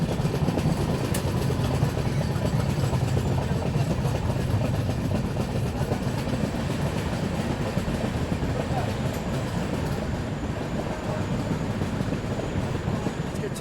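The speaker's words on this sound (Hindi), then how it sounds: "फिलहाल अपनी ट्रेन पहुंच रही है जाजपुर क्योंझार" The Dhauli Express rolling into Jajpur Keonjhar station in Odisha, a heavy, continuous rumble and clatter of the train heard from on board, with people talking now and then.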